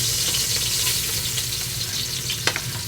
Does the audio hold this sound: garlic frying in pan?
yes